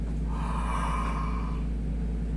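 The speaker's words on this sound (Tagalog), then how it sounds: "Yan ang tamang hikap." A person gives a slow, breathy demonstration yawn as a jaw exercise for TMJ disorder. It is a drawn-out exhale that swells and fades over a steady background hum, with no talking.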